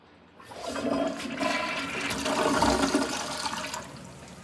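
A toilet in a church restroom at Zion Lutheran Church in Garretson, South Dakota flushes with a loud, close rush of water that swells, holds and then tapers off as the bowl drains.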